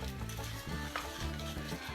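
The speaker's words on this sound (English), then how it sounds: "You just want to stir this and cook it." Caramel icing cooking in a pan while being stirred, a dense close sizzle with rhythmic scraping strokes of the spoon, no talk.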